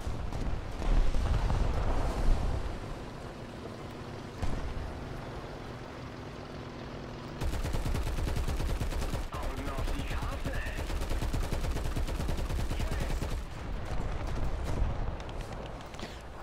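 Rapid tank cannon and machine-gun fire in the War Thunder ground battle with Soviet tanks such as the BT-7, a dense rattling barrage with rumbling engine noise that grows busier and louder partway through.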